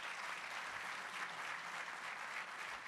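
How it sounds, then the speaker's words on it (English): An audience at a city's state-of-the-city address applauds in a steady, faint, even wash of many hands that lasts the whole moment without a break. "Let's give him a nice round of applause."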